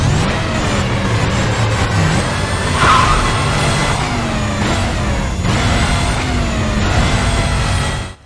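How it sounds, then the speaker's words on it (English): Car engines rev loudly and continuously in the Need for Speed Carbon racing game, with dense engine roar and rising and falling pitch that keep going without a break. "You'll get fantastic car sounds and engine revving."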